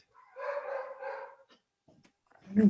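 A dog barks in a short burst of a few yips and woofs somewhere nearby in a home, followed by a louder bark at the end, with no talking over it.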